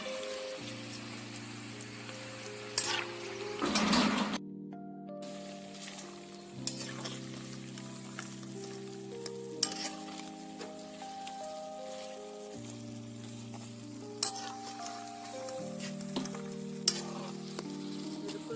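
Mathri dough pieces deep-fry in hot oil with a soft, continuous crackle and sizzle under background music, quiet and steady throughout with no talking.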